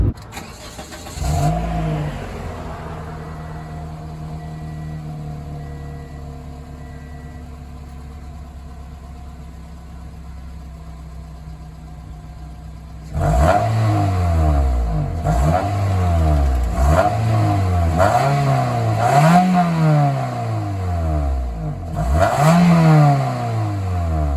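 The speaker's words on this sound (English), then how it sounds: "I actually like the sound coming from the exhaust." A 2006 Pontiac Vibe starts and idles with a steady exhaust drone, then its engine is revved repeatedly in sharp bursts that rise and fall, loud and close.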